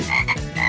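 Frog croaking in a playful food-challenge setting, three short close croaks in quick uneven rhythm, loud and alone without talk.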